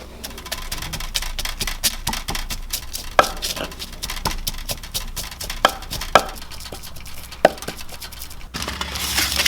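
Roasted garlic, pepper and salt pounded with a pestle in a mortar, a fast steady series of dull knocking thuds with a few sharper clacks, close and without talking.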